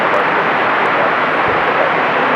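An American Airlines Boeing 737-800 arriving at Raleigh-Durham airport from Miami gives a steady, broadband jet roar that holds at an even level throughout, with no voices.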